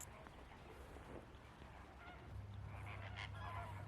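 A flock of flamingos honks faintly in the distance outdoors in France, goose-like calls scattered over a steady wash of ambient noise.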